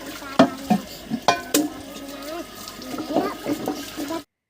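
Household dishes and utensils being hand-washed under running water, with splashing water, scattered clattering knocks of pots and plates, and faint voices in the background.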